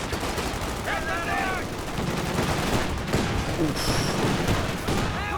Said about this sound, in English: those rifle nades are going off